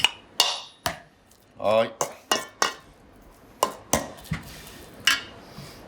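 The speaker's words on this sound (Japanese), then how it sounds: "このキャベツをこうやって、マッシュにするっていうんですかね。" Cabbage and potato being mashed in a pan for Andorran trinxat, with a series of sharp utensil knocks and scrapes against the pan at an irregular pace, close by, and a brief word spoken.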